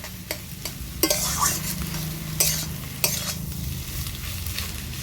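Raw banana, egg and potato mash stirred in a frying pan over a steady sizzle, with a few sharp, loud scraping strokes spaced a second or so apart.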